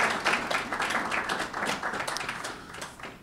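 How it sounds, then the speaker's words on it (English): A crowd applauds at a university charity 5K launch event, a steady, moderately quiet wash of clapping that holds evenly for a few seconds before tapering slightly. "I think that deserves a round of applause."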